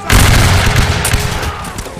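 A musket volley at a Battle of Camden reenactment goes off as one loud, close blast and then rolls away in a long rumbling echo.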